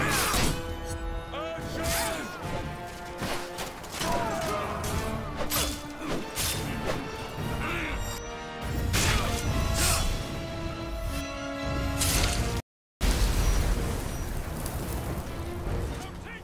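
Dense, continuous crashing and smashing from a Roman battle as a volley is fired in Ryse: Son of Rome, with thuds and impacts over a steady roar, loud throughout with a brief cutout near the end.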